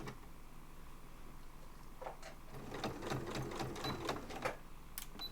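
A sewing machine stitching a cross-body bag makes a short burst of rapid, rhythmic mechanical clicking and whirring for about two seconds, close and fairly quiet, after a stretch of near silence.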